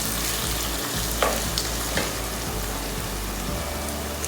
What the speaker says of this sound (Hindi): चिकन को अच्छी तरह भून लेते हैं